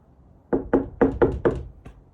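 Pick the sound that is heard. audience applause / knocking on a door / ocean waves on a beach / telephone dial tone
knocking on a door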